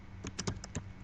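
Several sharp computer keyboard key clicks in quick succession, as a shortcut is pressed while working on a simple pamphlet in CorelDRAW; close and crisp, without talk.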